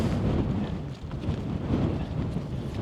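Strong wind buffeting a microphone on a fell top in the Lake District, a loud continuous low roar and rumble with gusty fluctuations and no speech.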